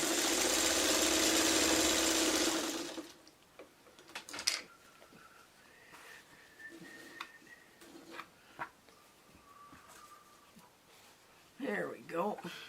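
Quilt block pieces stitched on a sewing machine, a loud steady mechanical whir running for a few seconds before stopping, followed by quiet ticks and handling noises with a voice talking.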